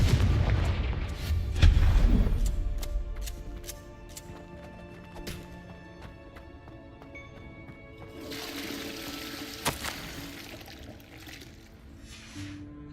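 A Confringo explosive spell goes off in Hogwarts Legacy: a deep, booming blast early on that decays into rumbling debris, followed by quieter game ambience and a second, lighter burst of sparkling noise later.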